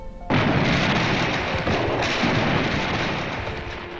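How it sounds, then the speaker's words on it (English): Artillery shells bursting and gunfire on a WWI battlefield, a loud continuous barrage of booms and cracks that erupts suddenly and rolls on without pause. "Gunfire and shells exploded around him"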